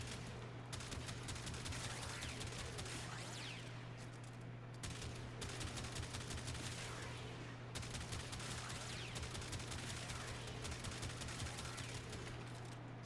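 Tiberon Prime rifle in Warframe firing in semi-automatic mode, a dense run of loud, rapid gunshot cracks over about thirteen seconds, with brief pauses near one, five and eight seconds before the shooting resumes.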